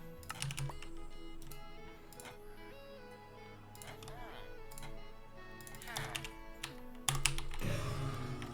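Fingers type a chat message on a computer keyboard during a live stream, making rapid, close, light key clicks in irregular bursts. Other sounds carry on in the background.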